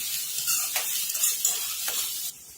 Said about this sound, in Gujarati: આપણે ઝીણી કટ કરેલી 2 ડુંગળી એડ કરીશું અને શેકાવા દઈશું